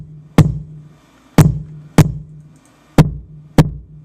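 Five heavy, punchy layered kick drum samples at an uneven pace, each with a sharp attack, deep low-end thump and a short decaying tail, played alone.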